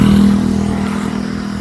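A motorcycle engine runs close by on a road on Isla de Sandingan, a loud steady drone with a strong low hum that eases slightly after the first half second, with faint clatter and no talking.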